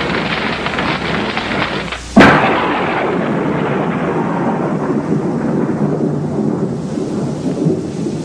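A thunderstorm at Colorado Springs on the edge of the Rockies: a sharp, loud thunderclap cracks early on, then a long rumbling roll continues over steady rain, with no voices.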